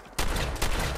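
Shotgun fire in the video game Fallout 4, a loud sustained burst of blasts starting abruptly after a brief quiet moment, with a second surge of shots near the end and no talking.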